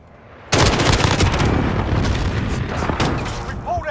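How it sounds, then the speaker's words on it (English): A precision airstrike lands in Call of Duty Modern Warfare (2019) multiplayer, a sudden heavy boom followed by a rumbling roll of repeated blasts and cracks, loud and close, with a voice faintly underneath. "Be advised, friendly precision airstrike inbound."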